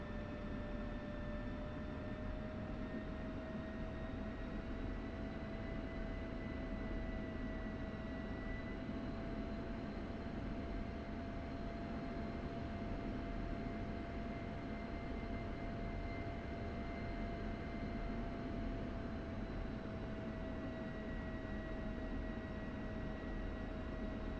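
F-16 Viper jet taxiing in DCS World: a steady, droning engine whine with a constant tonal hum over broadband rumble, continuous and even throughout, with no talk.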